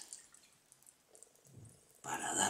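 Sparkling water poured into a coconut drink, faint drips and trickles at first, then a louder fizzing pour that fills the last half second.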